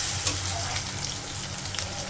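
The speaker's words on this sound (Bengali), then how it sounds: "তেলেতে পেঁয়াজ দিয়ে একটু ভাজা ভাজা হয়ে গেলে" Onions frying in hot oil in a home kitchen, a steady close crackling sizzle with occasional small pops and light stirring, no voices.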